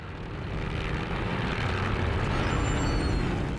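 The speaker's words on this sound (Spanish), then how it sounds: "Los aviones vuelan bajo sobre el campo, observando el progreso de la batalla." World War I airplanes fly low over a battlefield, a steady droning engine and propeller roar that stays loud and even throughout with a faint high whine on top.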